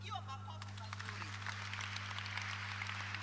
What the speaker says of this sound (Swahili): Apigiwa makofi mazuri.